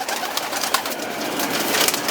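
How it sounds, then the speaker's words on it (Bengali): Male and female pigeons coo softly and repeatedly at close range, with a steady hiss of background noise around them. "আর সুন্দর পায়রা আছে"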